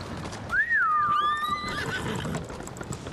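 A horse in the video game Ghost of Tsushima gives a single clear whinny, rising then trailing off, with faint hoof clops and light background noise.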